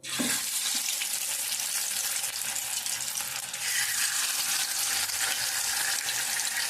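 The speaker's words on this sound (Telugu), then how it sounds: "చేప చక్కగా వేగింది. మళ్ళీ మనం ఒక చేపని కట్ చేసి 2 ముక్కల కింద కూడా వేద్దాం." Pieces of fish fry in hot oil in a pan with a loud, dense, continuous sizzle and crackle that holds steady throughout.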